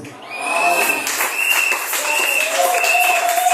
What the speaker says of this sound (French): On applaudit très fort, on applaudit très fort.